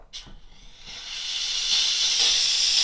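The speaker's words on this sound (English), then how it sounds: "you are simply just going to pull the trigger and it will shoot out steam" A Bissell Steamshot Deluxe handheld steam cleaner fires a jet of steam as its trigger is pulled, a close hiss that swells within the first second and then holds as a loud, steady rush to the end.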